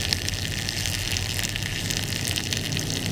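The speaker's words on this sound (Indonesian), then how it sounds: "Air yang sudah melalui turbin akan dialirkan kembali ke sungai." Water gushes steadily out of the tailrace discharge pipe of a small teaching-aid micro hydro system, returning to a river after passing the turbin; a continuous, close, loud rushing roar with no talk.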